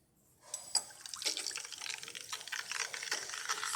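Rancilio Silvia espresso machine steam wand plunged into a jug of rinsing water, giving a steady hissing, bubbling gurgle that starts after half a second of quiet and continues fairly loud to the end, with no talking.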